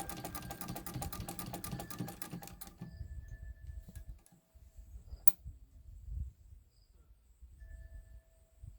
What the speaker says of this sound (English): Hold your threads for the first stitch or two, and then just crank away.